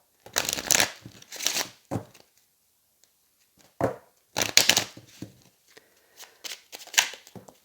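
A deck of tarot cards is cut and shuffled in quick bursts, crisp riffling flurries separated by short pauses, close and fairly loud with no talking.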